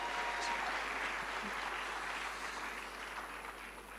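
A round of applause from the audience at a ceremony marking 60 years of the Ghana Cedi, clapping steady and soft at a distance before gradually tapering off.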